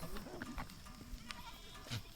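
Goats newly arrived by truckload bleat a few times at close range, short calls scattered over steady farm background noise with no talk.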